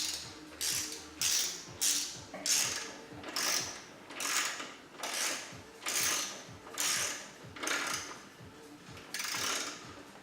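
A ratchet wrench clicks in about a dozen repeated bursts while torquing valve cover bolts on a BMW N54 engine, each stroke a quick run of ratcheting pawl clicks, close and fairly quiet with no talk.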